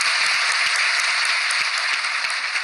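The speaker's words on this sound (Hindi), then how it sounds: "तालियां बजाकर स्वागत करें।" Loud, dense applause from a gathered audience welcoming someone, a continuous wash of clapping with no pauses, close and steady throughout.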